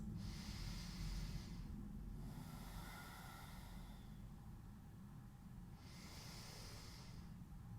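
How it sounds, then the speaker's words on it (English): Slow, deep breaths during a seated yoga twist, with about three long airy inhales and exhales, close and soft, over a quiet low room hum. "Deep breathing."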